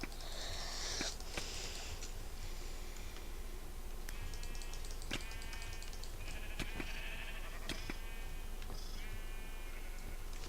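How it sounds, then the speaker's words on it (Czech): Sheep in the Minecraft video game bleat in short, repeated calls, several separate bleats spaced across the clip, with faint clicks and game sounds in between. "Máme jednu ovečku."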